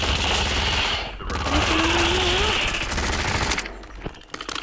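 Rapid, loud gunfire in a video game after picking up a sniper rifle, a dense burst of shots filling most of the moment with a short pause, game noise and no clear talk.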